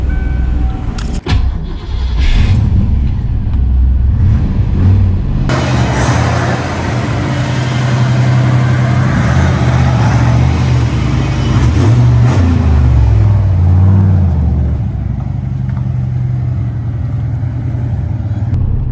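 A car fitted with a 500HP T5 manual transmission drives steadily on the street, its engine droning loud and close for most of the run as it pulls through the gears, with a brief lift near the start and a quieter tail.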